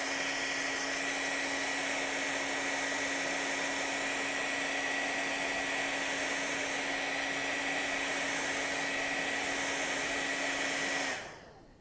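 A hair dryer runs steadily to dry acrylic craft paint on a small landscape painting. Its even, close, whooshing motor drone continues for about eleven seconds, then switches off abruptly.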